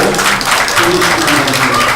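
Applause from the audience at a Korean political party's supreme council meeting in Incheon, a dense, steady patter of many hands clapping at moderate distance. Faint voices sit beneath it.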